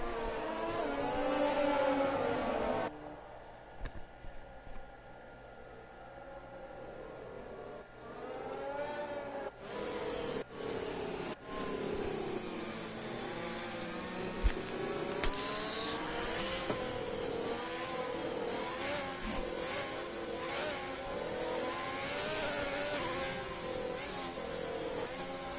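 Racing cars screaming at full throttle toward the finish line in an F1 video game at Bahrain, a continuous high engine whine rising and shifting in pitch, with brief gear-change dips, steady and fairly loud.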